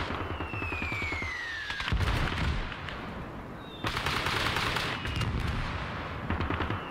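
Gunfire and mortar fire fill a Cold War battle between Soviet and Chinese forces in the Call to Arms video game: dense, continuous crackling rifle and machine-gun bursts with heavier thumping impacts, fairly distant and with no talking.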